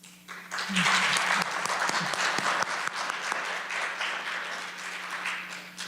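Audience applause at a high school board of education meeting, a steady burst of many hands clapping for about six seconds over a constant low electrical hum.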